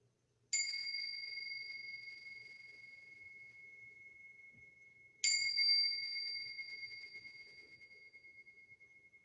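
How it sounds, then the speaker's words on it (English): Tibetan bells struck twice several seconds apart, each a bright metallic ring with a clear ringing tone that decays slowly in a quiet room. "I'm going to play the Tibetan bells for you"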